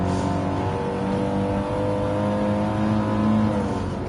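An Audi TT Cup Gr4 race car in Gran Turismo 7, racing at Lago Maggiore, holds a loud, steady engine drone as it accelerates, its pitch rising and falling slightly, heard alone and close.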